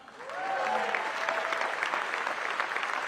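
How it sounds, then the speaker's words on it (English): Crowd at a political rally held at a gun store in Scottsdale, Arizona, breaking into sustained applause that swells within half a second and continues loudly, with a voice heard faintly underneath. "Another round of applause."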